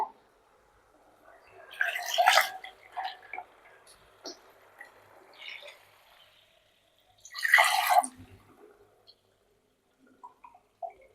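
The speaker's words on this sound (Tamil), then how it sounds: "ஜாரில் தண்ணி ஊற்றி கழுவி ஊற்றிக்கலாங்க." Water poured into a blender jar to rinse out ground paste for tamarind kuzhambu makes two short splashy bursts of swishing and pouring, with faint drips and knocks between them.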